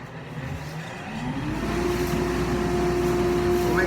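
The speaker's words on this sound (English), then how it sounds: "Turn my vacuum on." A workshop vacuum switches on and spins up, a steady whine rising out of quiet room noise and holding at full speed.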